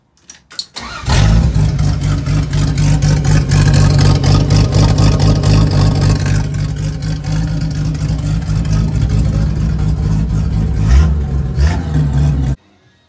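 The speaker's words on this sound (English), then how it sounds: "I started up without the exhaust and I forgot how ridiculous this thing sounds" LS V8 swapped into a Mopar A-body car starts and runs with no exhaust fitted, a loud, harsh, lumpy idle that barks to life after a brief crank and rumbles steadily before cutting off.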